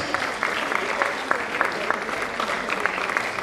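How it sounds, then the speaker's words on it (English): Steady applause from a conference audience in a plenary hall, a dense wash of clapping that holds at an even level throughout. "Please let's keep clapping until she gets to her seat."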